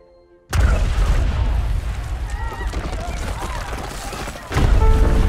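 A loud explosion scene from the film Aquaman, a sudden heavy boom erupting after a brief quiet, followed by sustained rumbling blasts and gunfire-like bursts with a second surge near the end.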